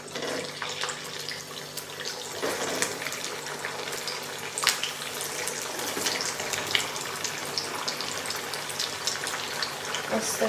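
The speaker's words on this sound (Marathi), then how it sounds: "आपलं तेल गरम झालेलं आहे आपण आता एक एक असे वडे तळून घेऊयात" Sabudana vadas frying in hot oil one at a time, a dense continuous crackle and hiss with a watery, rushing texture, steady and moderately loud throughout.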